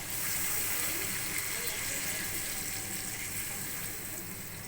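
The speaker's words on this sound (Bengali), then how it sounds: "এবার অল্প করে জল দিয়ে দেবো" A little water poured into a pan of hilsa fish curry makes a continuous gushing, splashing wash that stays steady and fairly loud before easing slightly at the end.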